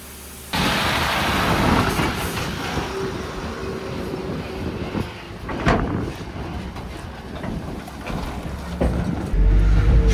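JCB loader shoving grain up into a full grain shed: a loud, steady diesel engine roar with rumbling hydraulic strain, swelling briefly near the end, with no talk.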